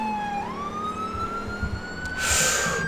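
A police car siren in the video game GTA IV wails continuously, its pitch sliding upward and holding, with a burst of engine or crash noise near the end.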